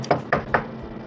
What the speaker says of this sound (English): At that moment, there's a sudden knock on the door.